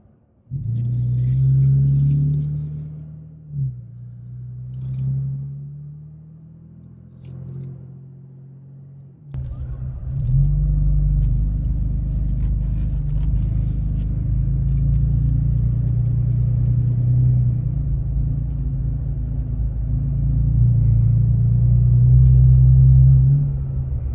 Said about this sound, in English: Rapid deceleration. All the way down to 10. Alright, letting it coast.